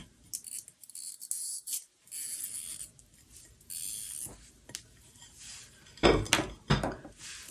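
A ceramic plate handled on a table during a sewing project, giving scattered close clinks, light scrapes and knocks, with a louder clattering knock near the end.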